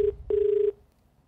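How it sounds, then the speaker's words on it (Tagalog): A phone line rings out during a call to a suspect: two flat electronic tones, one short and one longer, with a brief gap between them, loud and close, then silence. "Dinadial natin."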